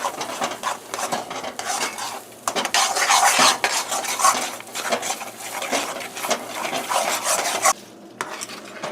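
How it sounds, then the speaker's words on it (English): Spoon stirring cream of wheat parsad in a metal pot on the stove, a steady run of scraping, clinking strokes with a faint sizzle beneath, close and fairly loud with no talk. "you just want to keep stirring until everything evaporates"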